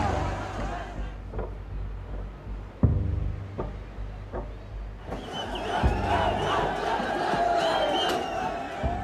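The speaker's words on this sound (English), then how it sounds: "Crowds breach the Supreme Court" Large crowd of protesters storming government buildings, a dense roar of shouting and battle cries that swells loudly after a few seconds, with scattered thuds and vehicle noise underneath.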